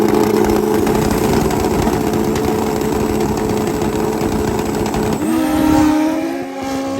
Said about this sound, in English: this is the motorcycle that made a whole lot of noise on Cycle Drag